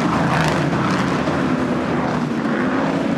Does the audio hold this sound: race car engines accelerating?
yes